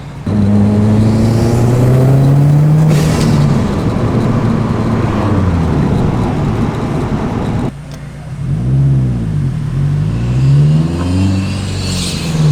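Engine of a tuned Subaru STI revs hard and loud, climbing and falling in pitch through several pulls, with a brief dip near the middle before more rising and falling revs close by.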